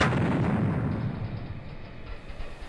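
A remote-controlled bomb detonates in Floating Sandbox on the sinking Britannic, producing a loud, sustained blast with a heavy low rumble that fades slowly over a few seconds, no voices.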